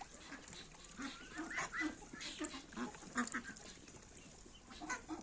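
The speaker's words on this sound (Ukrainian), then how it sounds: "Ось такі молоді, білі селезні." Young white Muscovy drakes in a poultry yard give soft, scattered calls, faint and close, in short irregular bursts with no talking over them.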